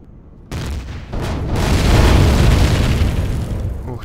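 An explosion in the space survival game Empyrion hits suddenly and loud, then swells into a heavy, rumbling roar that slowly thins out over several seconds.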